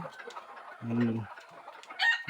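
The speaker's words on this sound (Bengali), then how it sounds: "দেখেন আমার মুরগিগুলো মাশাআল্লাহ ডিম পেড়েছে।" Native village chickens on a Bangladeshi home farm cluck in a scattered, busy chorus, with one louder, lower burst of clucking close by midway and a sharper call near the end.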